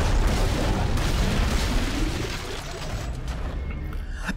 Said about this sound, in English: it's like it's a free explosive